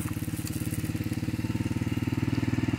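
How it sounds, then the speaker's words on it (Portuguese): Close, loud motorcycle engine chugging in a rapid, steady pulse on a forest trail, the sputtering rhythm holding throughout as the bike passes nearby, with no speech. "Passando aqui alguém de moto aqui."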